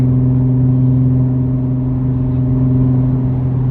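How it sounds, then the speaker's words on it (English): Steady, loud exhaust drone from a Genesis Coupe running a muffler delete with test pipes while cruising, a constant low booming hum with no breaks or revving. "all this drone, and it gets louder the more speed you give it"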